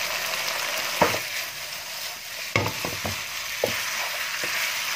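Glass noodles and soaked shoots being stirred through a hot frying pan for sambal goreng jawa, a steady sizzle under a few sharp scraping clanks of the spatula against the pan.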